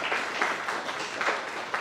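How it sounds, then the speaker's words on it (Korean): A church congregation at a Korean Presbyterian ordination and retirement service in Dangsan-dong claps in celebration, a faint, brief patter of many hands with uneven bursts, heard from a distance. "우리 박수로 축하합시다."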